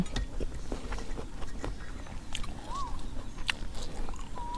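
Someone eating a spicy Thai red ant egg salad, close crunchy bites and chewing in an irregular rhythm, with faint background chirps and no talking.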